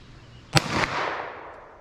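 A single 9mm pistol shot fired with Winchester Defender ammunition at a target 50 yards away, one sharp close crack with a short rumbling tail against quiet outdoor background.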